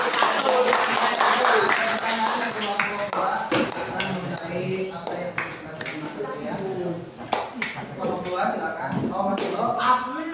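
A class claps for a group presentation in a vocational automotive lesson, with a dense burst of hand claps and tapping and students talking under and between the clapping.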